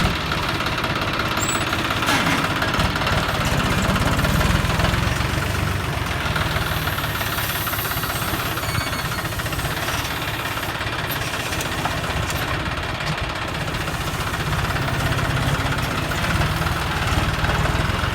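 A Kioti 90 hp tractor engine runs steadily and loudly at close range, a continuous low diesel rumble with a knocking texture and no breaks.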